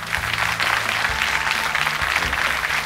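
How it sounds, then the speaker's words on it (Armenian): A TV contest show audience applauds in a dense, even burst of clapping that stays loud and close throughout, with faint crowd murmur beneath. "Ծափ։"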